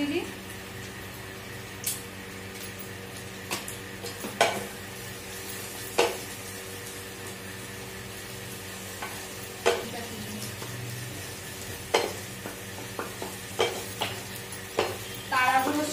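An egg frying in a pan with salt being added makes a steady low sizzle, broken by scattered scrapes and stirring knocks. It is close and moderately loud, and a voice talks over it.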